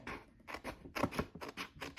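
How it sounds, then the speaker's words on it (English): Scissors trim the edges of a printed photo in a series of close, crisp snipping cuts with papery scratches between them, quiet and without talk. "So just take the scissors and trim off everything."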